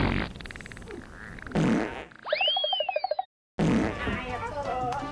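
A fart sound effect amid kids' show chatter: a rising squeaky whistle into a rapid sputtering burst, loud and close, cut off by a brief silence before voices resume.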